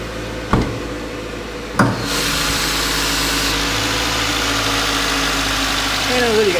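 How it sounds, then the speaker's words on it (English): A 2.5 liter boxer engine in a 2015 Subaru Impreza idles steadily with a low, even hum, after two sharp knocks near the start; the running sound continues unbroken with no talk. "This is a boxer engine. Two pistons facing two to the right, two to the left. It's a great power, good gas, and nice sound."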